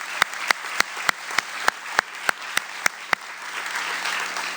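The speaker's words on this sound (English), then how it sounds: "Can we get a big round of applause for Coach Weibel?" Applause for a departing coach at a sports awards event: a crowd claps steadily while one loud, close clapper strikes a sharp, evenly spaced beat on top, the sharp claps stopping before the crowd fades.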